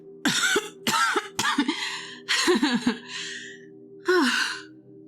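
A woman coughs in several harsh bursts mixed with breathy gasps and a sigh, close and fairly loud, with short pauses between fits.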